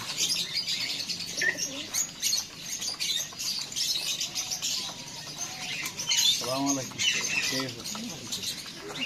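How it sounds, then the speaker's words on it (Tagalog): Pigeons at a crowded bird market in Souq Al Wakrah, Qatar, cooing and flapping amid constant chirping from other birds, with people talking nearby throughout. "Ibang kalapate oh."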